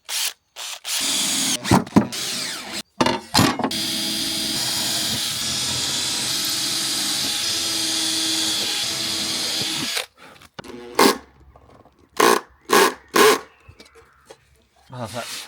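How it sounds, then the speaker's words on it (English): A wood router trims the edges of a scrap plywood storage cabinet with a loud, sustained whine, cutting in and out at first before a long steady run, then giving way to short bursts and knocks. "I've done all the routing, I've trimmed the edges"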